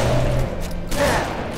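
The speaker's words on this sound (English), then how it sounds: "Three shotgun blasts." Shotgun blasts in Halo Reach, two or three quick heavy bursts of gunfire over a droning game background, loud and close.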